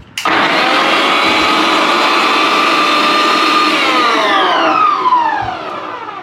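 A loud electric vegetable chopper chopping onions on first speed whirs steadily at high speed, its pitch sliding down near the end as it winds down.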